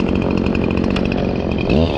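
A chainsaw being warmed up for tree trimming runs steadily and loudly close by, its engine holding a constant buzzing drone with a slight rise in pitch near the end.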